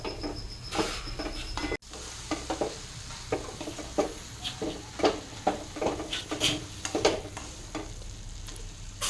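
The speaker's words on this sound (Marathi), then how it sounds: "छान अशी परतून घ्यायची मंद आचेवर गॅस मोठा नाही करायचा" Green chickpea leaves sauté in a pan over a low flame, with a soft continuous sizzle broken by repeated scraping and stirring strokes of a spoon against the pan at an uneven rhythm.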